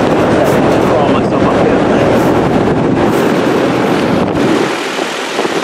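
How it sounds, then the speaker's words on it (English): Condenser fan motors, one brand new and one older, running on an HVAC unit during a service call. They make a loud, steady rushing whoosh like wind across the microphone, continuous and unbroken. "Alright, so I'm gonna check our condenser fan motors."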